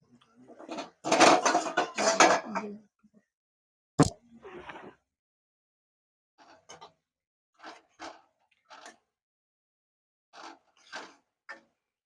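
Pointed gourd and potato curry being stirred in a pan, several close scraping and clattering bursts of spoon against metal separated by silence, no talking.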